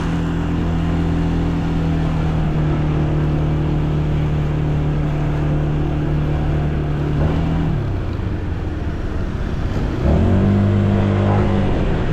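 A car drives along a road, its engine humming steadily near and loud, then easing off and picking up again as it shifts and accelerates, with no talk.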